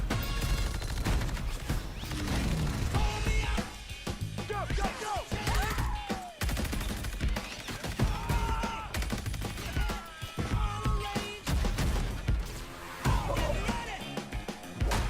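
Dense, continuous game gunfire and impact crashes from Call of Duty Vanguard multiplayer fill the whole stretch, loud and busy with overlapping shots and effects.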